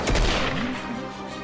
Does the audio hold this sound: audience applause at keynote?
no